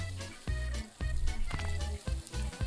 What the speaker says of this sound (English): We need two more burgers cooking up.